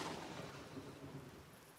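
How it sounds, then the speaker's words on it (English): Steady rain with a low rumble of thunder in the survival video game Empyrion Galactic Survival, an even, continuous wash of downpour and distant booming with no talking. "it's starting to rain"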